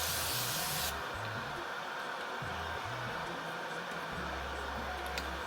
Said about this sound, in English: We're gonna go in with the Morphe setting spray and just spray your face.